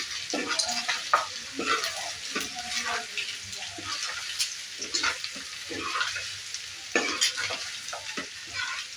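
A spoon stirs mutton curry masala with coriander powder in a pan. Irregular scraping strokes sit over a soft sizzle, and nobody speaks.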